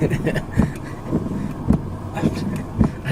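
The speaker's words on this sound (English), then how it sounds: "I wasn't pulling into the Ferrari dealership on a bone dry day with my windscreen wipers on" The windscreen wipers on a Ferrari 488 GTB sweep across a dry windscreen in a regular rhythm of about one stroke every half second, each pass a soft, close thump over the low hum of the cabin.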